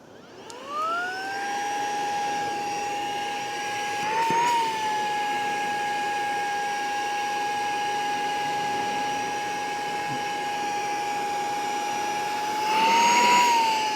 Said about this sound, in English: I can use this vacuum to get them out of there, the base of those cells